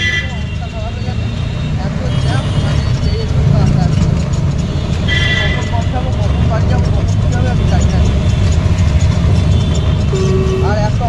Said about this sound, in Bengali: তারপর রাস্তায় কেমন জ্যাম দেওয়া ওখানে